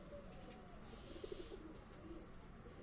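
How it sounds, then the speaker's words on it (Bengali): Fancy lokka breeding pigeons cooing, a short run of soft throaty coos in the middle of the clip over a quiet, steady background, with no talk. "ব্রিডিংয়ের পায়রা এগুলো"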